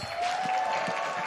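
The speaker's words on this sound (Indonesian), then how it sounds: "FL Arena tepuk tangan dulu dong!" Arena audience at a Mobile Legends esports match in Indonesia claps in a steady, close wash of applause, brief and fairly loud.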